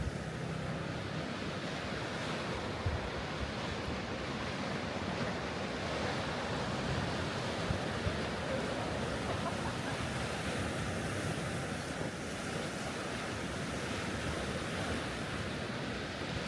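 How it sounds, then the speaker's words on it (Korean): Ocean waves wash steadily onto the Yangyang shore of the East Sea, a constant, loud surf roar with some wind rumble and no talking. "파도 소리가 너무 듣기 좋네요."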